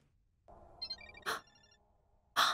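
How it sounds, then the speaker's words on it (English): A mobile phone ringtone, belonging to a character called Asuka, sounds from a balcony in a video game: a bright electronic melody of short tonal notes with two loud bursts, heard alone without talk. "Asuka's ringtone? I think it's coming from the balcony."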